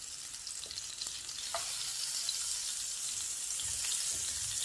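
Butter and oil sizzle steadily in a frying pan, a soft, even hiss that swells slightly partway through, with a few faint clinks and no talking.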